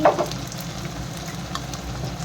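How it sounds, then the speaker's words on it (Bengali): Potatoes sizzle and fry in a pan for a chickpea ghugni curry, a steady close crackle with a slightly louder burst at the start and no talking. "এই যে আলুগুলো একটু ভেজে নিই এর সঙ্গে।"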